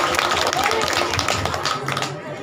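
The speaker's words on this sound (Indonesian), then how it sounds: "Tepuk tangan buat Syekh Abdul Aziz." Audience at a lively religious lecture claps in a short burst of dense, close applause that tapers off after a couple of seconds, with voices mixed in.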